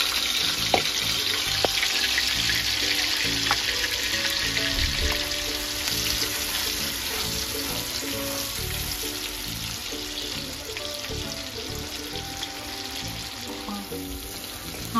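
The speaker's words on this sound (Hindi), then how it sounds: "प्याज का पेस्ट डालेंगे।" Onion paste fries in hot oil over a lowered flame for mutton kofta curry, a steady broadband sizzle and hiss running close and continuous throughout, with faint stirring scrapes and no talk.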